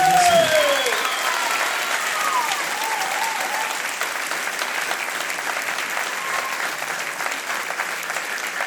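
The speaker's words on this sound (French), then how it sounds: "Donc on peut les applaudir" Audience applause fills a Corsican choir concert hall, a sustained wash of many clapping hands at steady loudness, with a brief descending tone at the very start.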